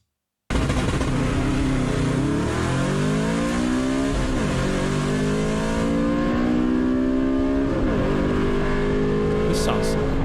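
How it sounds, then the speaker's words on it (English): A manual Audi RS4 B7 with its 4.2 V8 revs hard, the engine and exhaust rising and falling through several loud, rough climbs and drops that hold close and continuous throughout. "rough and a bit metallic, and I like that exhaust sound"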